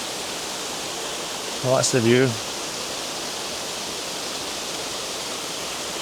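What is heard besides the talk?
waterfall rushing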